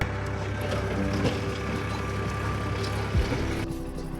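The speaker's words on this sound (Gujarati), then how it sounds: "અહીંયા આગળ ટ્રેક્ટર ખાલી થઈ રહ્યું છે" A tractor engine chugs steadily while a tractor trolley dumps loose soil onto a farm field, the soil pouring and rushing out in a continuous noisy slide, with a couple of dull thumps.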